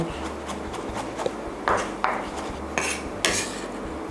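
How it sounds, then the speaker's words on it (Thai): A knife on a chopping board finely minces chillies and garlic, a busy run of quick, close clicking taps with a few sharper knocks, no talk over it. "สับพริกกับกระเทียมนะคะ เป็น การสับแบบละเอียดนะคะ"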